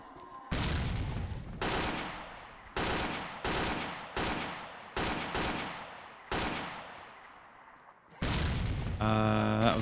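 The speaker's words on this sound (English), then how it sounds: "Someone's shooting at me. Is that a mercenary? You just know a grenade's coming," Heavy gunfire and a grenade explosion ring out in the S.T.A.L.K.E.R. video game, with a series of loud, sharp shots each trailing into a long echoing decay, followed by a sustained roaring blast near the end.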